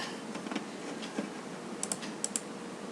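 Typing on a computer keyboard with the Enter key pressed, close and quiet, a few scattered soft key taps followed by two pairs of sharper clicks near the end, no voices.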